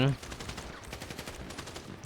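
Rapid-fire gunfire in the video game GTA V with a zombie mod, a quick string of repeated shots in close succession after a louder opening burst.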